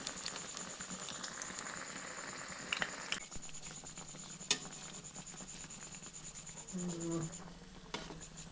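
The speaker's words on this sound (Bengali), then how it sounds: "এরপর ভালো করে লাল লাল করে ভেজে নিচ্ছি" Potato and bread snacks deep-frying in oil, a quiet steady sizzle and patter heard from nearby with a few small clinks and bumps, and no talking.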